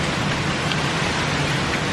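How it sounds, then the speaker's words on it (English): Heavy rain from Hurricane Ida falling steadily in Hershey, a dense continuous hiss of rain on surfaces, loud and unbroken. "The rain is starting to slow down now, and it is not flooding as badly"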